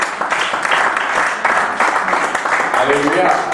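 Church congregation clapping and cheering during a French-language service, a busy, irregular patter of applause mixed with voices and some singing toward the end.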